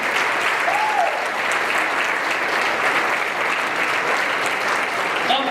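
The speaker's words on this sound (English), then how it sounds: "Give them a big round of applause" A crowd at a local dance competition show gives a loud, sustained round of applause for a trophy presentation, dense continuous clapping that stays full and even throughout, with faint cheers mixed in.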